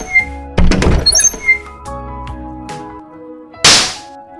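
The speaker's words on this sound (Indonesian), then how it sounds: "lalu tampar pemeran utama" A single sharp smack of a face slap in a dramatic scene lands near the end, loud and close, after a run of tonal sound effects.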